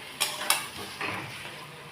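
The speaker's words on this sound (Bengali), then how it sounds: "এইবার আমি এর মধ্যে ভাজা আলুগুলো দিয়ে দেবো" Fried potatoes are stirred into spiced masala in a pan for aloo biryani: two quick spoon scrapes, then a soft sizzling stir, close and fairly quiet with no talk.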